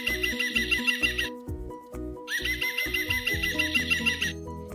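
A green woodpecker teddy toy plays its recorded call twice, a bright repeated laughing series of notes set over a steady rhythmic music backing, close and fairly loud.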